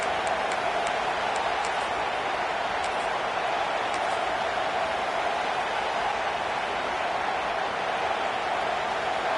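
Dense, roaring crowd noise fills the whole stretch, a constant wash of cheering voices from a large stadium at a Georgia versus Alabama college football game, steady and loud.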